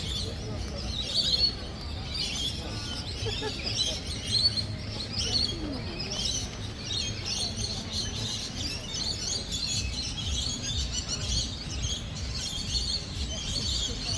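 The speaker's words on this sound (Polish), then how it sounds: "Patrzcie, jakie piękne ptaki jeszcze przy powrocie do Kares." Birds chirp and call continuously in the city centre of Cairns, Australia, a busy chorus of tweets over steady low traffic-like rumble, with occasional voices nearby.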